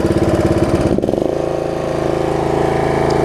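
A Snapper RER riding mower engine drops from idle to a steady, loud full-throttle roar, a continuous close-up drone with strong harmonics and no talk over it.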